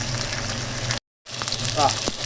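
Steady sizzling of fish frying in a pan over medium heat, broken by a brief silent gap, then continuing with some light clattering over it.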